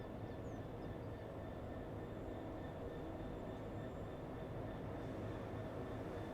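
Several Class 66 diesel locomotives idle in Train Sim World 4, a continuous low engine rumble with a faint steady whine above it, with no voices and nothing changing across the clip.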